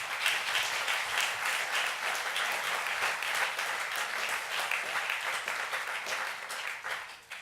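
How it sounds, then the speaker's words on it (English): A large audience at the LSBC Awards 2013 ceremony gives sustained, loud, dense applause for UBS. The clapping stays steady for several seconds, then tapers off at the end. "Let's have a round of applause for UBS."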